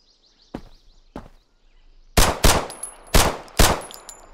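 Gunshots ring out in a hardcore survival video game: two separate shots, then four louder, sharper blasts in quick pairs, close and punchy against faint background tones.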